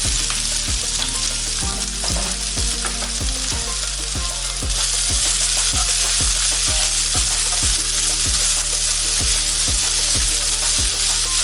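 Steady, loud sizzling of chopped ginger frying in coconut oil, with regular stirring scrapes every second or so and no voices.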